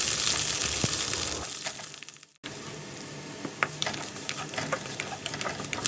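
Hissing sizzle of onion, dried red chilies and curry leaves being tempered in hot oil, loud and steady at first, briefly dropping out, then resuming with light crackles and pops close by.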